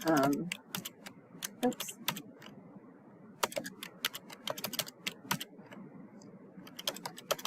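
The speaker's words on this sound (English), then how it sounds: "So I'm going to go ahead and type in purple." Fingers type on a computer keyboard in a quick, uneven burst of sharp key clicks with brief pauses, close and fairly crisp, while a voice talks softly in the background.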